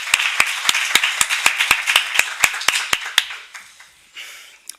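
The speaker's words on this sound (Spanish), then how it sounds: "comencem amb un aplaudiment per a ell" An audience at a presentation breaks into clapping, heard as a brisk, fairly close run of sharp regular claps that tapers into a few scattered ones.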